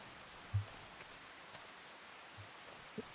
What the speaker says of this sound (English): I really need the rain to stop